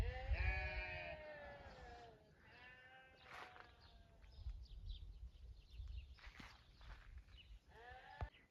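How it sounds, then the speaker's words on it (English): Sheep bleating in and around a pen on an off-grid homestead, several drawn-out wavering calls from more than one animal, some close and loud, others fainter, with quieter gaps between. "The sheep are making a big noise today"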